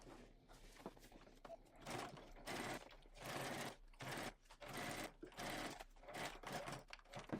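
A sewing machine stitches a 1/2 inch seam across a Rivet Patterns Andante bag, running in several close, steady bursts separated by short pauses.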